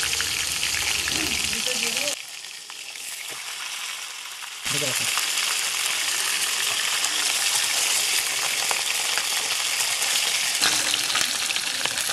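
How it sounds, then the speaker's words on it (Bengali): Loud, continuous sizzling of a fish head frying in hot oil, briefly dropping quieter for a couple of seconds before surging back up. "মাছের মাথাটাকে লাল করে ভেজে নেব।"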